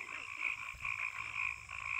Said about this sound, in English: So there's one more frog.